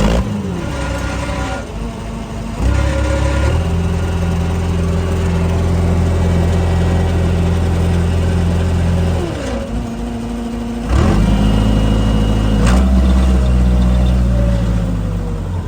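A truck engine idles steadily after an alternator repair, its low drone rising in pitch twice as the idle steps up, then settling back, loud and close with no talk.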